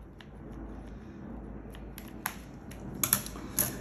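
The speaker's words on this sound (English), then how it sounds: "We're gonna go ahead and just simply cut this in" Knife slicing through prosciutto on a kitchen board, a few faint soft cuts and rustles late in the clip over low background hum.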